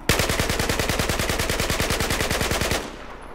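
An L85 rifle in Battlefield 4 fires one sustained full-auto burst of about thirty loud, evenly spaced shots at a steady, fairly slow cadence, then stops abruptly.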